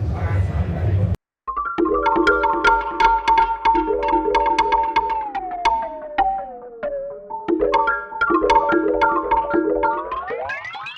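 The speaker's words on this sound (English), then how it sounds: "It's sort of a bucket brigade delay type effect." Plucky synth notes repeat in a steady pattern through the u-he Colour Copy delay plugin, a bucket brigade delay type effect, with echoes whose pitch bends and warps downward, then slides back up, like a stretched delay line.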